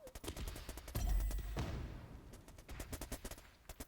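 Mortar shells drop and explode in a multiplayer video game match, a string of sharp blasts and rattling gunfire with a heavy, booming burst near the middle, then scattered crackling shots tapering off.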